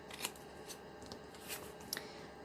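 Scissors snip through paper while cutting pieces for a small handmade folio, a few short, quiet, crisp cuts spaced irregularly in a near-silent room.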